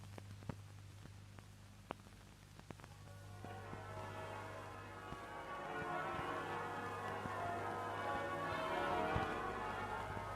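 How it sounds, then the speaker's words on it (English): Church bells ring in Oxford, faint and distant, building into a dense overlapping peal over a low steady hum, with scattered sharp knocks early on. "The bells in Oxford ring from morning tide till evensong"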